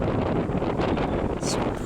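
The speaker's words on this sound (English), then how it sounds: "I am a human tripod, and I'm being battered by the wind. There's the wind." Wind gusts from a thunderstorm gust front batter the microphone in a loud, constant roar with buffeting across the whole clip and a brief sharper gust near the end.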